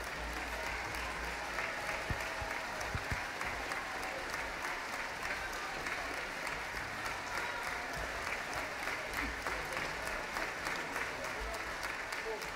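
Audience at an outdoor symphonic concert in a park applauds steadily, a dense continuous clatter of many hands at even loudness throughout, with faint voices beneath.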